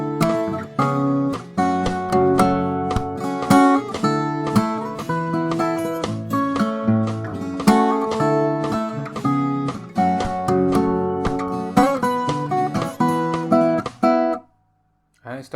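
Acoustic fingerstyle guitar playing bars 76 to 82 of an arrangement of a song from Naruto Shippuden, a continuous run of bright plucked notes and chords, close and clear, ending in silence.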